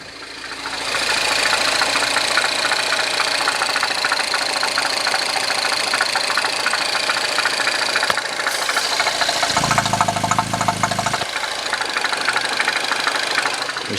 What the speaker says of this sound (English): We still have that top end tapping slash rattle.